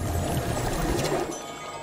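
Water poured while cleansing a spring in the video game Wildmender, a soft continuous rushing splash that thins out toward the end, heard alone.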